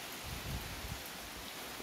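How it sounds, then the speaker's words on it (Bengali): Rain pours over a tea garden in a continuous broadband wash of patter on foliage, with faint low rumbles beneath, steady and moderately loud with no one talking. "এখনও বৃষ্টি হচ্ছে"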